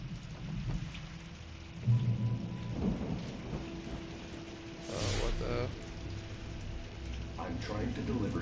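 Steady rain and rolling thunder from the video game Alan Wake, with a loud rumbling crack midway over continuous rainfall and someone talking intermittently over the storm.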